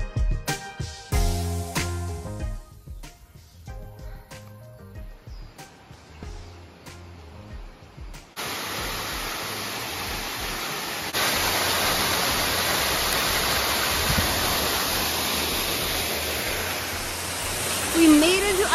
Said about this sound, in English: We made it to our first little waterfall.